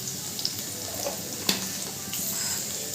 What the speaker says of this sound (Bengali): রসুনটা একটু ভাজা ভাজা হয়ে গেলে আমি এর ভেতর শাকটা দিয়ে দেব।